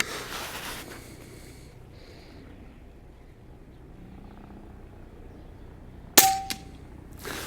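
Air rifle pellet striking a metal target outdoors, a single sharp metallic clang followed by a brief ringing tone, heard after several seconds of quiet wind-blown ambience.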